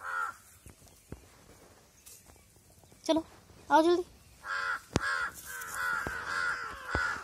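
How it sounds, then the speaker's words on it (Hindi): Several crows caw in short bursts of harsh calls at a home in India, fairly close, while a person speaks a brief line and quieter voices and background noise fill the gaps. "ओ सारे कौवे आ गए यार"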